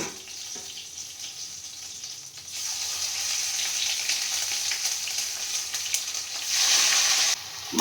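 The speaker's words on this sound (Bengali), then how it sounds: "এর মধ্যে আমি এই যে মাছটাকে ম্যারিনেট করে রেখেছি এটাকে দিয়ে দেবো" Marinated pabda fish sizzling in hot oil with slit green chili, a steady close crackle that swells louder toward the end before a short break.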